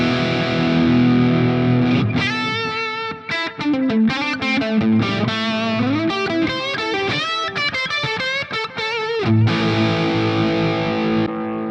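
An electric guitar played through a Marshall 6100 30th Anniversary amp model on Tonex gives a distorted, chorus-tinged tone. A ringing chord leads into a quick run of single-note phrases and chord stabs, then another sustained chord.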